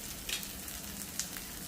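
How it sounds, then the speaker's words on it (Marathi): An oats and vegetable chila frying in a pan after a splash of oil, with a soft, steady, close sizzle and a few faint crackles and pops, no talk. "थोडंसं तेलाचा शिपका इथं वरती करायचा"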